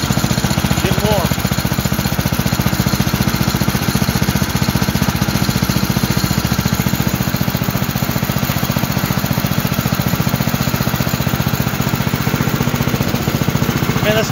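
A Predator 212 small gas engine, being fitted to a generator, runs steadily close by, a loud, even drone that holds without change from start to finish.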